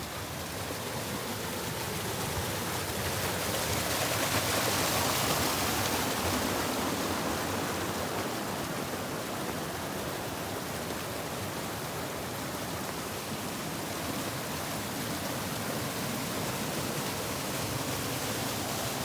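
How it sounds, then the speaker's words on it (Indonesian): Fast water rushing through a channel near Curug Walet waterfall in Bogor, Indonesia, making a loud, unbroken hiss and roar that stays even for the whole stretch, with no voices. "Ini bukan sungai sih, jadi kayak saluran air ya."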